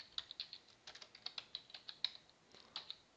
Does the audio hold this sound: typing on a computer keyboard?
yes